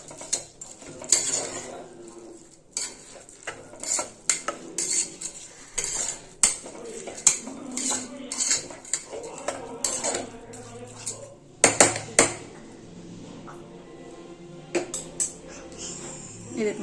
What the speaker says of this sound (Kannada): ಈಗ ಇದನ್ನ ಮಿಕ್ಸ್ ಮಾಡ್ಕೊತೇನೆ